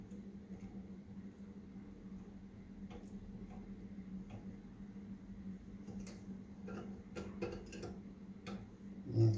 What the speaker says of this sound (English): tighten these screws down